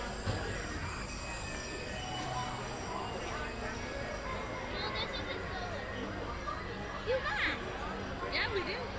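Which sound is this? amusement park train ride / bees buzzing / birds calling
amusement park train ride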